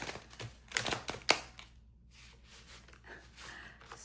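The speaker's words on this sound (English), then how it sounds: "Sorry for this atrocious shuffling" Tarot cards shuffled by hand in a few quick, crisp riffles and clacks, close and fairly loud, then quieter soft sliding and tapping of the deck.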